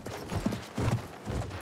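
Horse hooves in the Battlefield 1 video game, a quick clip-clop rhythm of several hoof strikes in close succession, fairly loud with mechanical game noise and no talking.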